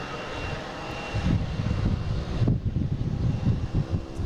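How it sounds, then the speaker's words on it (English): A Sun Country airliner taxis at Boston Logan Airport, its engines producing a steady low roar that swells slightly partway through, with some wind buffeting and no talking. "Sun Country still taxiing around out there"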